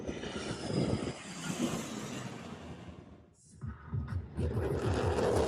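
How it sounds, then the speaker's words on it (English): Thunderbirds jets make a loud, broad roar as they pass at an air show. The roar swells and holds, drops to a brief lull and then surges back. Crowd noise or voices may blend underneath. "seeing and hearing the Thunderbirds almost break the sound barrier"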